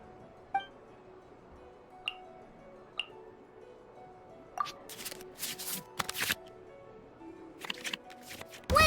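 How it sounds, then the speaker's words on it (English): Virtual cards shuffle back into a draw pile in the Genius Invocation TCG video game: three soft, evenly spaced chimes, then a flurry of crisp swishing card sounds and clicks, ending on a louder flourish. "select any number of cards in our hand to shuffle back into the draw pile"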